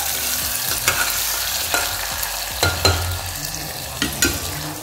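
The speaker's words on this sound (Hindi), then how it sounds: "अब प्याज को हम थोड़ी देर तक ब्राउन होने तक वेट करेंगे।" Onions frying in a pan at home and stirred by hand, a steady close sizzle broken by several sharp scraping stir strokes, with no talking.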